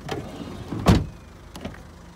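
Rear electric windows on a Ford B-MAX 1.4 Zetec hatchback whirring briefly inside the car, one short motor burst near the middle followed by a fainter second run, close and moderately quiet.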